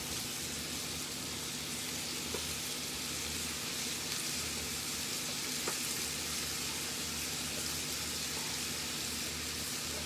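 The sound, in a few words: roux melting and sizzling in a pan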